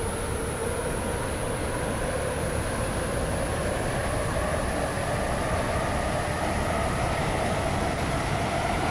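Interior of a moving WaterLine passenger train heading to Greenslade, a loud continuous rumble of wheels on track with a high steady whine above it, heard from on board without talk.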